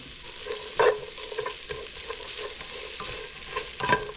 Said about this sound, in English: So let me mix these around till they soften